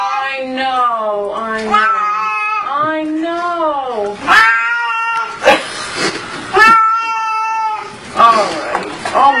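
A cat being bathed meows and caterwauls loudly in long, drawn-out wails throughout, with a person talking close by over the splashing.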